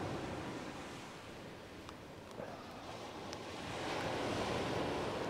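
Sea waves wash steadily onto the shore during a fishing session, a broad continuous rush that swells louder toward the end, with light wind buffeting the microphone.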